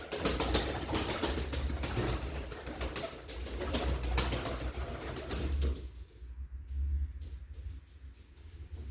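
Breeding pigeons coo softly and repeatedly in close quarters, low throaty calls murmuring under a rustling, busy background that quiets partway through.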